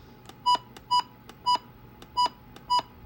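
Five short electronic beeps from a weather radio's buttons, evenly spaced and clear, with faint ticking in between and no voices.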